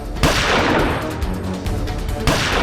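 A gunshot sound effect from a Hindi TV courtroom drama fires as a sharp burst, then a sustained rumbling echo follows and a second crack comes near the end.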